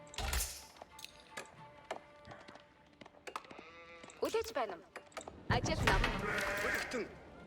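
Sheep bleat repeatedly in Age of Empires 4 during a 1v1 match on the Ancient Spires map, with several clear bleats in the middle and at the end, mixed with game effects and a person talking.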